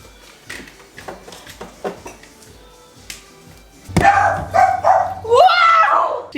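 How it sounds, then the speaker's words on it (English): Dog barking indoors in a home, a few sharp barks and yips near the start, followed by a loud burst of background pop music playing during a morning coffee routine. "She hates when Buffy barks"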